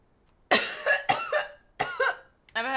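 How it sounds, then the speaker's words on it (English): A person coughs in a fit of four loud, close, harsh bursts, each breaking into a couple of rough hacks, with short pauses between and a final throat-clearing rasp. "I'm having a coughing fit"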